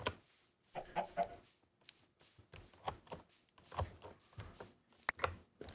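Chickens in the video game Minecraft cluck in short, repeated bursts, several close, fairly loud clucks scattered across a quiet background with no talking.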